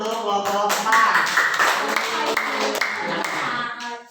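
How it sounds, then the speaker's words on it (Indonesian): A classroom of students claps for a student group, a burst of brisk, close hand claps that swells and then tapers off over a few seconds. "beri tepuk tangan untuk kelompok 4"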